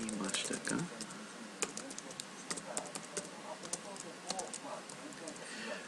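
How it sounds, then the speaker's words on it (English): Computer keyboard typing during a Japanese grammar livestream, with clicks and space-bar taps in irregular bursts under steady background talk. "when I'm typing, I hit the space bar after each of these like particle phrases"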